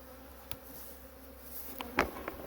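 Honeybees hum as they fly around newly hived nucleus colonies at a home apiary in Minnesota, a faint steady buzz with a few louder bees passing close to the microphone.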